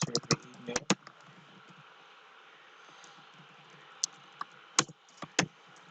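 Someone types on a computer keyboard, a few scattered clusters of quick key clicks with pauses between them, close and fairly quiet over a faint background hum.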